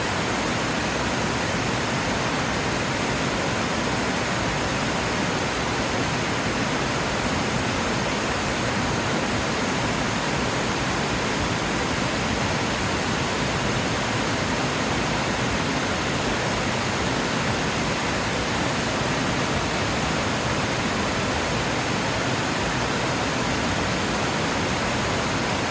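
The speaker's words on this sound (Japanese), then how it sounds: "こんななだらかなこの坂を駆け下りてく滝って初めて見たかもしれないです。" A waterfall rushes down a gentle mountain slope in Tochigi, a dense, unbroken roar of close, loud water with no other sounds.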